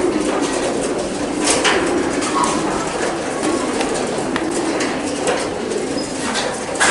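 Racing pigeons coo and murmur inside a loft, a dense layer of soft overlapping calls near the microphone, with occasional faint clinks and shuffles.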